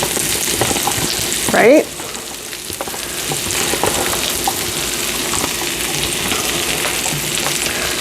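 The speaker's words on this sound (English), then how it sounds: "I'm going to let those saute until the onions are translucent and the mushrooms have softened" Mushrooms and onions sauté in a pan with a steady, close sizzle, broken by a brief stirring clatter near the start; a voice says a single short word.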